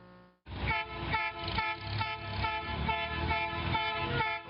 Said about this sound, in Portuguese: O barulho do metrô é ouvido de longe.